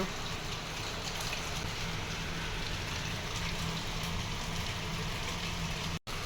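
Sudden heavy rain pours down steadily, a dense continuous hiss and patter at close range that holds its level throughout, with no voices and only a brief dropout near the end.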